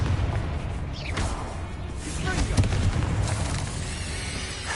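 Confringo fire spell blasts in Hogwarts Legacy, booming bursts with whooshing flares layered over steady rumbling combat noise, one strong impact standing out near the middle.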